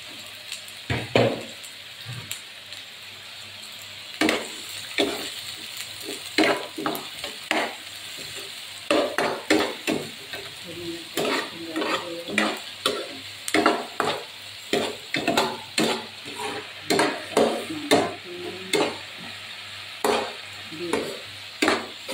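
Beef and onions sizzle and fry in a pan while a utensil stirs and scrapes repeatedly, with clattering strokes coming in an irregular rhythm close by.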